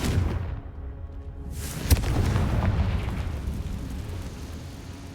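A Confringo blasting spell explodes in the Hogwarts Legacy video game, a loud rumbling blast with a sharp crack at its peak, followed by a sustained roaring burst that trails on without fading.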